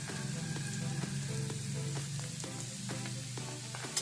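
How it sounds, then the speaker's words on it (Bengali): Jackfruit pieces with salt and turmeric fry in a pan with a steady close sizzle and repeated soft taps and scrapes of stirring throughout. "ইঁচড়টা যেহেতু দিয়েছি তার জন্য একটু লবণ আর একটু হলুদ দিয়ে ভালো করে ভেজে নেব"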